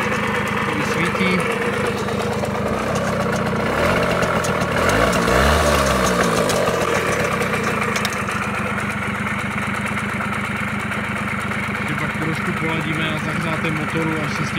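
A Babetta moped engine idles steadily and loudly nearby, a buzzing putter with a brief swell in the middle, as someone talks over it.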